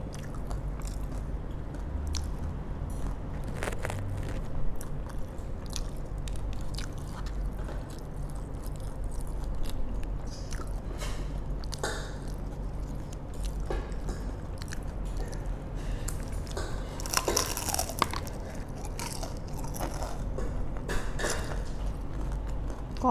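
Crispy fried spring rolls being bitten and chewed up close, a steady run of crunchy, crackling bites and moist chewing over about twenty seconds, with no talking.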